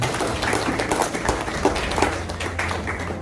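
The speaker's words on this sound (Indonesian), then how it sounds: "Berikan tepuk tangan untuk saya." Audience at an Indonesian business investment seminar applauding the speaker, a steady, full patter of many hands clapping for a few seconds with a faint hum underneath.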